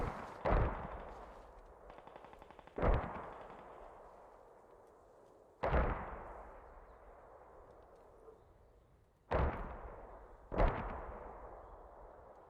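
Mortar and gunfire in the video game Post Scriptum: five heavy blasts land a few seconds apart, each a sharp crack trailing into a long rumbling decay, with faint distant shots between.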